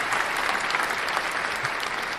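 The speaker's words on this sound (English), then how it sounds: "can we get an applause for Mr. Aaron Gonzalez before we get started?" Sustained applause from a live podcast audience for a guest, steady and fairly close, filling the whole stretch without a break.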